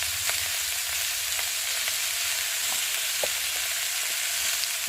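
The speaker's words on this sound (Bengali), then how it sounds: "লঙ্কার গুঁড়ো, আদা বাটা, জিরে বাটা দিয়ে ভালো করে কষিয়ে নেব।" Small fish frying in a pan with chili powder, ginger paste and cumin paste, a steady close sizzle with faint stirring ticks throughout, no voices.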